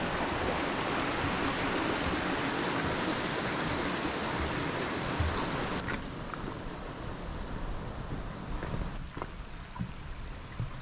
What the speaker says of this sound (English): Got a nice beck on my left hand side here. The sound of water filling the ears.